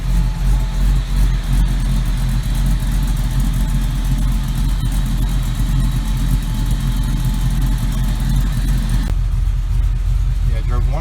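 LS-swapped Chevrolet Nova idling steadily with its exhaust system, a continuous low engine rumble running throughout with people talking over it.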